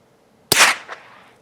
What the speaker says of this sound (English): This is the regular supersonic ammo.